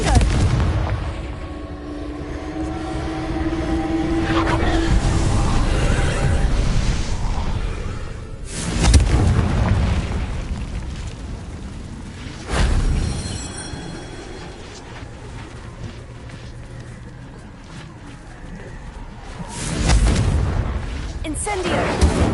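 Booming Confringo explosion spells in Hogwarts Legacy, several heavy blasts spaced seconds apart over a low rumbling background, loud and close, with voices between them.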